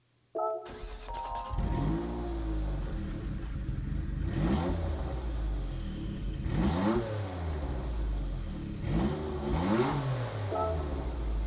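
A 1992 Jaguar XJ220 engine in Gran Turismo 7 starts with a sharp crank, then revs up several times in rising and falling sweeps before settling into a steady idle.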